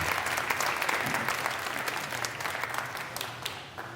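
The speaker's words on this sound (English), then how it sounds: "let's give her another big round of applause right now" An outdoor audience at a big band concert in Woodbury Central Park applauds a female vocalist, a sustained wash of clapping from a crowd that gradually fades toward the end.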